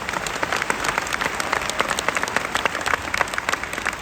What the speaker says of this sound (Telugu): చెప్పగలిగిన వాళ్ళు గట్టిగా చప్పట్లు కొట్టండి